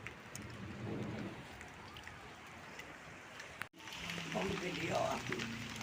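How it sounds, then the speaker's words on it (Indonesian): Rain falls steadily in a village near Sukabumi, a soft continuous hiss with a brief drop, while people talk faintly underneath. "Akhirnya yang ditunggu-tunggu hujan"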